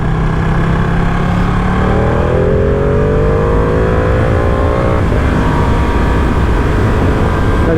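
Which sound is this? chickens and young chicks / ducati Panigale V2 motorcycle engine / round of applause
ducati Panigale V2 motorcycle engine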